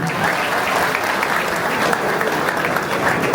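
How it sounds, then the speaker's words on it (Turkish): A crowd at a youth solidarity night in Niksar Kuyucak, Turkey, breaks into loud, sustained applause that stays dense and even throughout. "Onlar için bir alkış da ben istiyorum."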